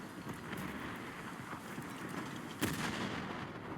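Warship guns fire in War Thunder naval combat, a low rumbling battle ambience with scattered gun reports and one sharp, loud broadside blast near the end.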